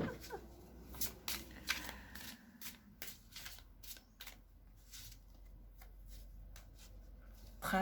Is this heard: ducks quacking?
no